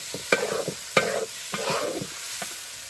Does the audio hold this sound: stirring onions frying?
yes